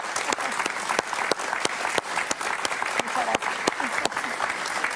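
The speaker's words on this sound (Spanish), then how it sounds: "Gloria Álvarez, un aplauso para ella, por favor." Loud, sustained clapping from a crowd, dense and continuous with a few sharper individual claps standing out.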